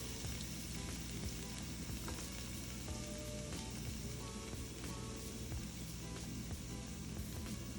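Onions sizzling in a pot while steamed fish is prepared, a steady faint crackling hiss that runs unbroken throughout with scattered tiny pops, close but quiet, and no speech.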